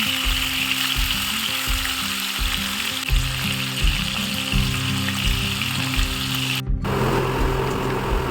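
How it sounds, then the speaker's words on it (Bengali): Pieces of snakehead fish frying in hot oil for a Bengali fish curry, a loud continuous sizzle and crackle close by with a low hum underneath, briefly cut near the end. "মাছগুলো দিয়ে দিচ্ছি, একটু ভাজা হয়ে গেছে মাছগুলো"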